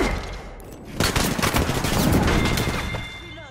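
A fusillade in an Apex Legends match: several sharp shots crack and then a dense stretch of rapid gunfire follows, loud and close over a rumbling battle bed.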